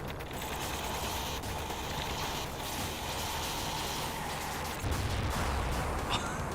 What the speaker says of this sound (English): We got killed by the explosion.